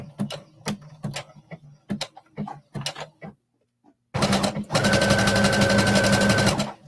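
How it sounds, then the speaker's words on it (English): A sewing machine stitching a seam on a tunic or dress, starting after a stretch of halting talk and a pause, then running as a fast, steady, close mechanical hum for about two seconds. "we're just going to sew from that 1 inch mark over to the other 1 inch mark"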